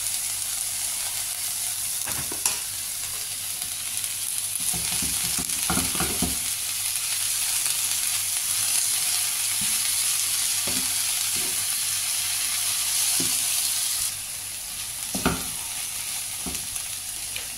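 Shredded cabbage for chicken vegetable spring rolls sizzles and hisses in a hot pan. Intermittent scraping knocks from stirring sound over the steady frying, with no talking.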